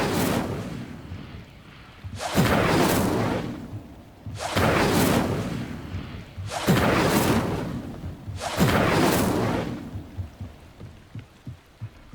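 Fire spell sound effects in a fantasy wizard video game, four loud whooshing bursts of flame spaced about two seconds apart, each flaring up and fading over a low background hum.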